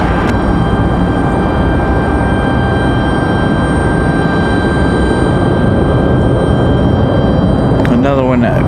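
Aircraft arriving at Raleigh-Durham International Airport, heard as a loud, steady broadband engine roar with a whining tone that holds throughout, and a rising sweep near the end as the plane draws closer.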